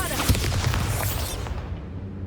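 Bombarda spell cast in Hogwarts Legacy, a booming blast with a sharp onset, then a crackling, rumbling burst that decays over about a second and a half into quieter game ambience.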